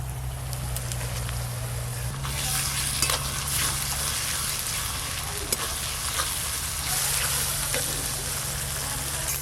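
Ginger-garlic paste frying with reddened fried onions for a chicken curry, giving a steady close sizzle with intermittent stirring scrapes and a low hum underneath throughout.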